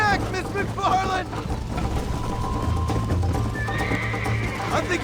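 Horses in the Red Dead Redemption video game gallop with a steady clip-clop and let out loud whinnies, close and continuous under game speech and background music.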